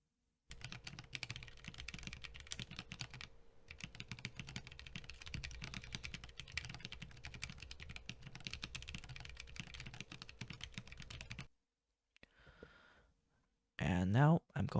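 Stock Corne (crkbd) split mechanical keyboard being typed on: a dense, continuous stream of close, clicky keystrokes with a brief pause, followed by short unrelated sounds at the end.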